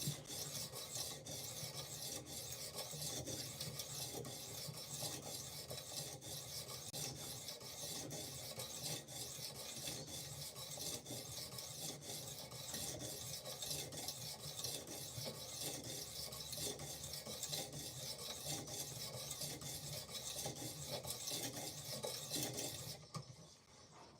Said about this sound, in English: Testing out these new sharpening stones